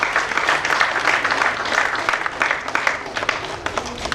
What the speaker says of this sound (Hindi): तालियां जरा जोरदार वाली बजा दीजिएगा